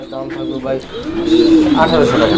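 Pigeons coo in low, rolling murmurs close by at a pigeon sale, with people talking over them throughout.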